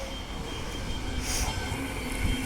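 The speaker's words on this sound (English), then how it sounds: "a B Series train on the Fremantle line coming in onto platform number 1" Transperth B Series electric train pulling into a Fremantle line platform, a steady loud rumble of wheels and motors with a brief squeal of wheels, close by and without talk.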